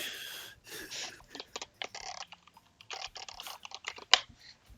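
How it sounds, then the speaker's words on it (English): Bursts of typing on a computer keyboard, irregular clusters of quick key clicks with short pauses, fairly close and moderately quiet, with no speech over it. "typing back to Nick"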